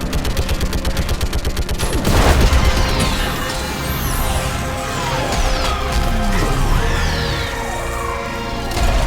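Loud, close gunfire from Mass Effect 3 Legendary Edition during a fight against a Reaper: rapid automatic bursts open the clip, then a heavy crashing boom, followed by scattered shots, blasts and sweeping sci-fi effects.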